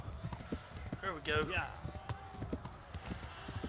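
Horse hooves galloping in Kingdom Come: Deliverance, a fast, rhythmic clip-clop close up with a brief whinny partway through, under a voice speaking briefly.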